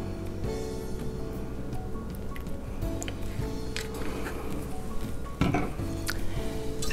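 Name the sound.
stirring half and half and vanilla mixture in a bowl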